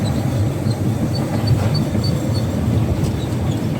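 A train near Mettupalayam rumbles steadily with a continuous low rolling noise and faint high squeals, heard close and alone without talk.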